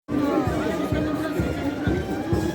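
A large crowd on a beach in Le Grau-du-Roi, Camargue, waits for the bulls and horses of an abrivado, a dense murmur of chatter and voices close by with some louder talk.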